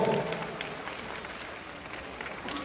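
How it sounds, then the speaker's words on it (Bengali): An audience claps steadily at a public welcome event, a dense wash of applause that holds through the moment without letting up. "আরেকটু একটু জোরে হাততালি চাই ঘরের মেয়ের জন্য একটু হাততালি হোক"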